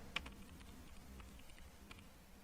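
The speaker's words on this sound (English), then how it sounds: "and I'm typing" Light, scattered clicks of keys on a computer keyboard while CSS code is being typed, quiet and irregular with soft keystrokes spread over a faint room hiss.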